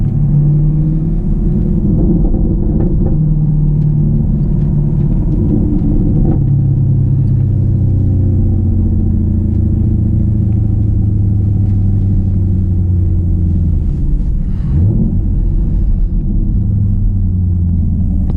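A Chevrolet Camaro's engine rumbles steadily from inside the car while driving around a go-kart racing venue at a car meet, a continuous low drone with a brief swell near the end.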